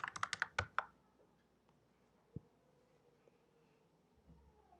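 A burst of quick computer keyboard keystrokes at the start, typing a localhost address during a Linux web server setup, then a near-silent room with a single soft click.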